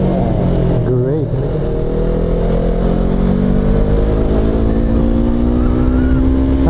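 Motorcycle riding on a road after a tire change, its engine a steady loud drone with rising pitch as it accelerates, wind noise throughout.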